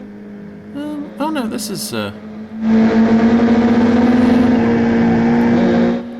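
A car engine revs and roars loudly with a sustained whine during a film car chase, following a brief stretch of a man's excited speech.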